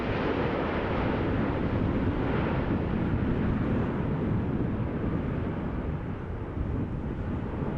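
A KLM Boeing 777-200 airliner lands at Amsterdam Schiphol Airport after a storm, heard as a steady, loud, broad engine roar mixed with wind noise throughout, with no talk.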